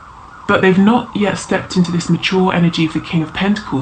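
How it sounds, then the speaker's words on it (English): Emergency vehicle sirens pass outside a room, wailing faintly in the background beneath a person talking steadily in the foreground. "Sorry about the sirens."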